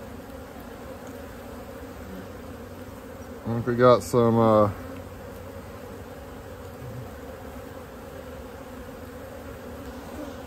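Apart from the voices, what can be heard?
honey bees buzzing around an opened hive box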